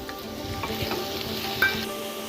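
Chopped tomatoes go into golden, translucent sautéed onions in a pan, and a steady close sizzle with light stirring scrapes follows, with no one talking.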